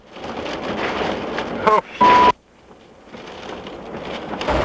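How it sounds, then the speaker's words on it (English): Hurricane Andrew's wind and rain in Miami, 1992, roar as a dense, continuous wash of storm noise, briefly cut by loud bursts before the rushing rain and wind resume. "the water's just whipping up, the wind is whipping up"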